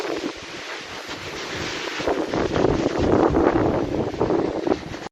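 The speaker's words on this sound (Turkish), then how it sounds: "kar yağışı kısa sürede tipi ve fırtınaya dönüştü" Strong gusting blizzard wind roars and buffets the microphone continuously, swelling louder in the middle before easing slightly.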